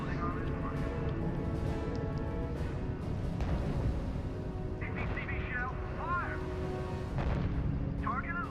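Battle sounds from the strategy video game RUSE: rolling artillery booms and rumbling gunfire under a dense layer of game audio, while a voice speaks over it.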